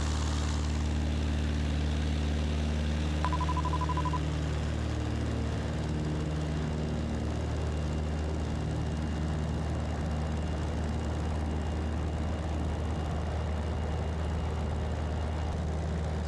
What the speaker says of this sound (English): we're climbing at 900 feet per minute. Not bad for an old 172.